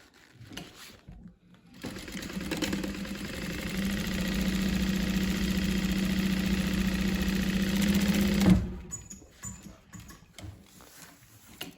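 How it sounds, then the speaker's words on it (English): A sewing machine stitches a seam on a fabric laptop sleeve, a steady fast mechanical hum and needle chatter running for about seven seconds after some handling noise, then stopping abruptly. "Then we're gonna sew the other side."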